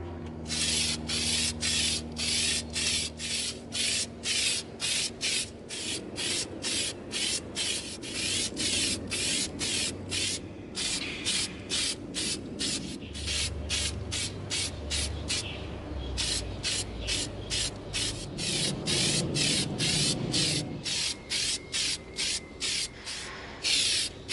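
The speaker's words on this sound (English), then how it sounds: "We're going to begin coating our Sabazios with our Plastidip." An aerosol can of Plastidip hisses in rapid, evenly spaced short bursts over and over while coating EVA foam, close to the microphone, with some faint rustling and handling noise underneath.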